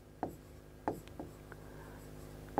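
Pen writing the amount on a paper cheque: a few short scratchy strokes close by, separated by brief pauses, quiet against a faint room background.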